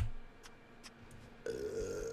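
A burping emote in a video game, a long, loud, low belch that starts abruptly partway through after a few faint clicks, heard alone with no talk.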